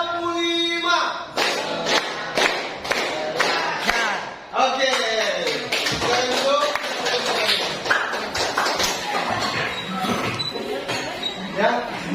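A classroom of schoolchildren claps in unison during a rhythm-clapping game, a dense run of sharp, close taps with children's voices and chatter mixed throughout.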